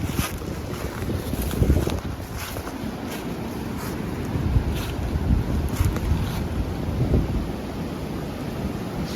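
Wind rushes outdoors in a loud, rumbling gust that buffets the microphone with low booming surges, continuous for the whole stretch.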